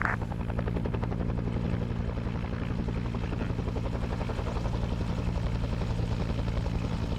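A military video game helicopter drones close and loud, its rotor thudding in a rapid, steady rhythm that stays constant, with no voices over it.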